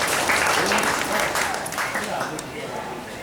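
Dense, steady applause from an audience at a Guru Purnima celebration in the Ram Mahel temple, Viramgam, a continuous crackle of many hands clapping close by for about three seconds.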